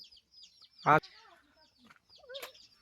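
A rooster lets out one short, loud, strained cluck close by, set against faint bird chirps and quiet background voices.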